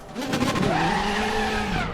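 A Mercedes-AMG C 63 DTM 2016 race car engine restarts during a pit stop in the RaceRoom racing game, giving a brief, close, rising engine note with layered harmonics, heard alone.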